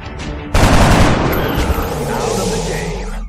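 A loud gunshot in the X-COM strategy video game, a sudden blast followed by rattling gunfire and a long reverberant decay.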